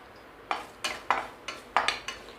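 Curry leaves dry-roasting in a pan, stirred with a spatula in a series of about seven sharp scraping, rustling strokes at an irregular rhythm, close and fairly loud over quiet background.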